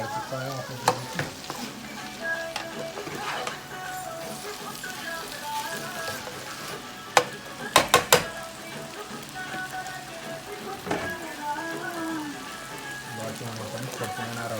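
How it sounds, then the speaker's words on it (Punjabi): Noodles and chicken sizzle and fry in a pan as a ladle stirs them, with scraping and a few sharp clacks of metal against the pan over the steady sizzle. "ਬਾਅਦ 'ਚ ਹੁਣ ਆਪਾਂ ਕੜਛੀ ਨਾਲ ਰਲਾ ਲਾਂਗੇ"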